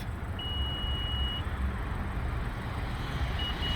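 Power tailgate on a 2021 Honda Odyssey EX-L giving a single sustained electronic beep while its opening height is set, heard close over a steady low rumble with no talk.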